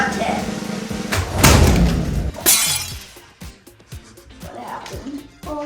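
A LEGO Technic remote control car driven off a table crashes loudly onto the floor and its bumper breaks, with a clatter of plastic followed by scattered small rattles, while children talk over it.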